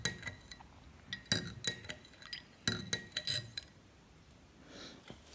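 A spoon stirs green tea and turmeric in a glass, making bright, close clinks against the side in quick irregular bursts, then trails off into quieter scraping near the end.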